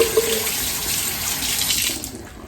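A dishwasher drain filter rinsed under running sink tap water: a loud, close, steady gush of water that tapers off at the end, with no talking.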